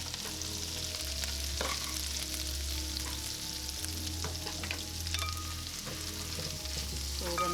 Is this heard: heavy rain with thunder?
no